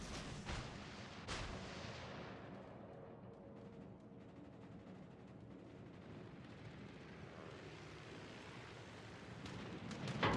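Naval guns firing in a warship game: several heavy, booming shots early on, then a long rumbling decay with distant low thuds, growing louder again at the end.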